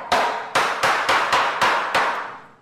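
A builder strikes with a hammer, seven sharp ringing metallic blows in quick, fairly regular succession, loud and close with bright decays.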